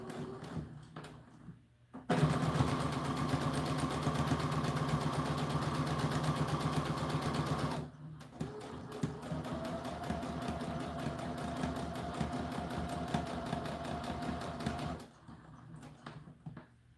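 A sewing machine stitching a doll dress runs in two long bursts of steady mechanical whirring at close range, separated by a brief pause, with quiet gaps before and after.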